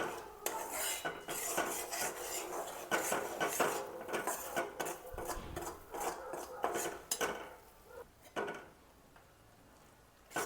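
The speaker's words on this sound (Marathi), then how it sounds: "कणिक कशी छान लालसर अशी भाजून घ्यायची आपल्याला" Wheat flour roasting in ghee for halwa, with a utensil repeatedly scraping and clinking against the pan in quick irregular strokes, then a quieter stretch near the end.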